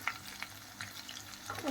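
Egg curry masala with onions frying in oil as it is stirred, soft sizzling with a few light scraping clicks of the spoon against the pan, close and brief, no talking.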